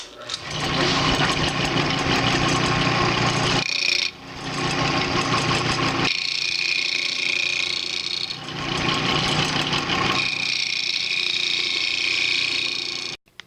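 Roughing gouge cutting a wood box blank spinning on a lathe, a loud continuous chattering rasp in long passes broken by brief pauses as the tool lifts off, close up and with no talk.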